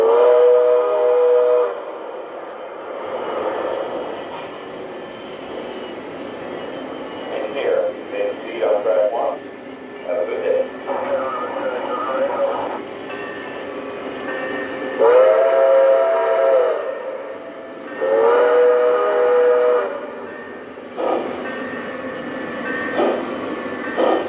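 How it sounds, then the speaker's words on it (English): A K-Line Mikado model steam locomotive runs on a Halloween layout, sounding repeated two-tone whistle blasts over a steady chugging rumble, with a person talking at times. "I also am running my K-Line Mikado here for the second Halloween train."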